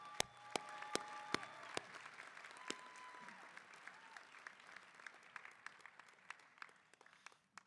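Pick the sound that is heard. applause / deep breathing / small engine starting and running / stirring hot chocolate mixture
applause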